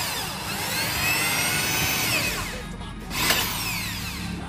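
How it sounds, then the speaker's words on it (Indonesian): A power drill bores into an amplifier box, a close, steady whirring grind that rises and falls over a few seconds with a brief louder burst near the end, and no talk. "Oke, kita bor dulu."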